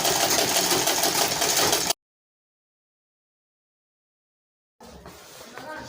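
A sewing machine stitches the hem of a short knicker in a steady, dense whirring burst, then stops completely for about three seconds before running again more quietly.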